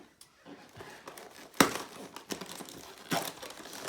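Plastic packaging crinkled and torn open around a boxed airsoft replica, close and fairly quiet, with irregular bursts of crackling and one sharp rip.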